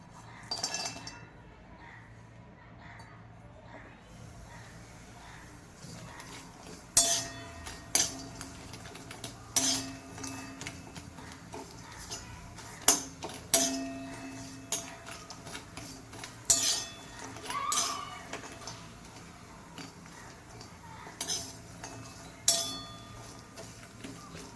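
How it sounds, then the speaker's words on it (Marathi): Dried Bombay duck roasts in a kadhai on a gas stove, with a quiet background hiss broken by repeated sharp metallic clinks and scrapes as a utensil turns the fish against the pan. "त्यामध्ये मी आता हे बोंबील भाजून घेते"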